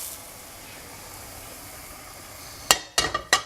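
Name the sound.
meat being stirred into simmering tomato sauce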